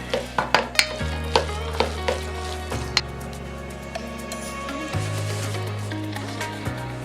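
Paneer momo stuffing stirred in a sizzling pan, with a run of quick scraping strokes early on, then steady frying sizzle and occasional spoon taps, close and fairly loud.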